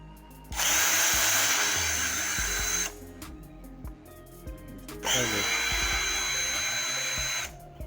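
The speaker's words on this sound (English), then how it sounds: "Take off these two screws." Power drill backing out two screws from an Echo SRM-225 weed eater, two loud, close whirring bursts of about two seconds each with a quieter pause of small clicks between them.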